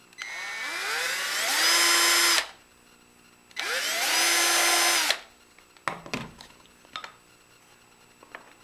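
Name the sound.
drilling holes in wood for cabinet door pulls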